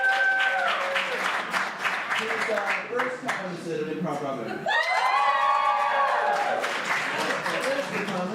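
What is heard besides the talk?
audience applause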